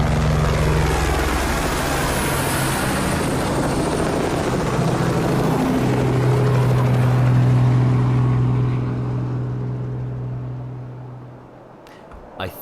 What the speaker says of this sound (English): I think that was a helicopter.